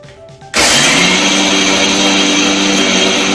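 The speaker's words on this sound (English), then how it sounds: "So you need to add them into the grinder." A kitchen grinder pulverizes Oreo and Nutri Choice biscuits, starting abruptly with a loud, steady, high-pitched whirring roar that holds constant.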